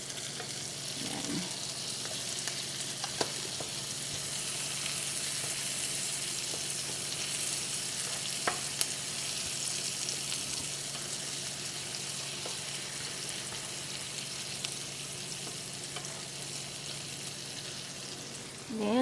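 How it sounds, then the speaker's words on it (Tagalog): Pork and tomato sauté in a pan, giving a steady close sizzle with occasional stirring clicks and scrapes for nearly twenty seconds, without talk. "Gisa lang natin sa ating pork. And ang ating tomato."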